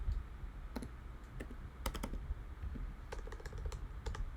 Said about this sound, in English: Let me type it in there.